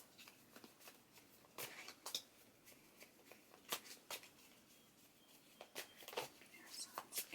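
Tarot cards are shuffled by hand in a quiet room, soft papery riffles and crisp slaps repeating irregularly, close and fairly faint.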